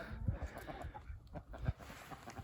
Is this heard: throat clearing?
no